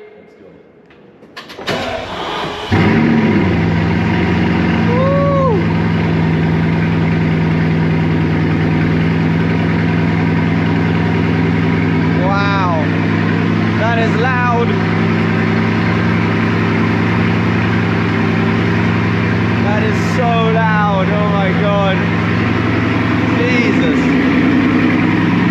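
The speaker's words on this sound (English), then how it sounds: "This is my first ever Chiron cold start." A Bugatti Chiron sports car fires up from cold, a quick surge after a quiet moment, then settles into a steady, loud idle with a deep droning tone; a few brief chirps and voices appear over the engine.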